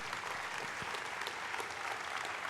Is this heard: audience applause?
yes